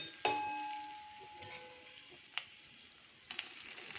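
Soft, steady sizzle of chillies cooking in a pan, with a few sharp utensil clinks against the metal. No one speaks.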